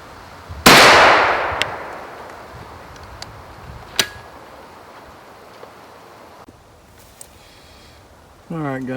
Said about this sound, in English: this will be my third shot